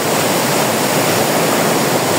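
The Tap Khola river rushes past with a fast current over sand, producing a steady, loud, close roar of churning water with no pauses and no voices.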